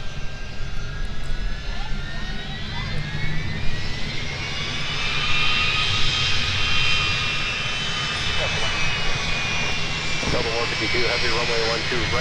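Airliner jet engines roar on a runway at Minneapolis–St. Paul airport, a loud sustained whine and rumble that swells and holds, with radio chatter and voices heard underneath.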